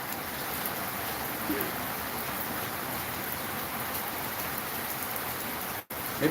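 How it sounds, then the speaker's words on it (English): Steady rain falling on and around the recorder, a dense continuous hiss with patter close by that holds level throughout and cuts out briefly near the end. "It's still raining on me right now."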